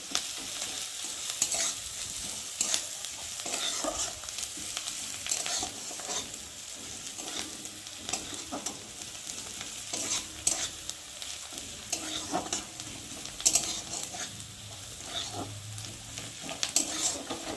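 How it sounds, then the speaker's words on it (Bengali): Garlic frying in oil in a pan while being stirred for a potato chokha: a steady close sizzle punctuated by repeated scraping stirs, with no talking. "রসুনটা দিয়েছে তো একটু ভাজা ভাজা না হলে রসুনের একটা গন্ধ বেরোবে কাঁচা কাঁচা, তার জন্য একটু সময় নিয়ে একটু ভাজবো।"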